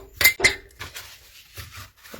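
Rose bushes blown by strong wind knock against a window, giving two sharp clinking taps close together, then a few fainter scattered knocks.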